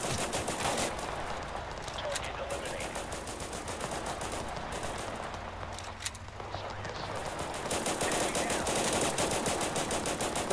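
Machine-gun fire from friendly troops in the strategy video game Total Conflict Resistance, a steady dense rattle of bursts running throughout, mixed with battle noise and occasional talk.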